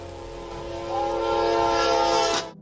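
A train horn blares steadily for about two seconds over the rumble of a train on a railway track, loud and fairly close, then cuts off abruptly.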